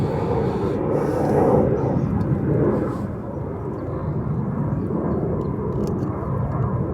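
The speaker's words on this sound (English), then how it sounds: "Another plane. Figures." A fixed-wing airplane drones overhead above a backyard garden, a loud steady engine roar that swells early and then holds as a lower, continuous rumble without any voices.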